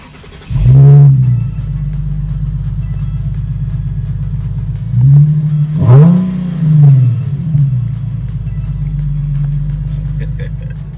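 Ford Mustang GT with BBK long tube headers revving hard: a loud blip early, then a steady deep idle rumble and a cluster of three rising revs in the middle, up close with no talking.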